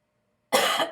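A woman coughs once in a sharp, close burst after a brief silence, followed by a second short cough at the very end.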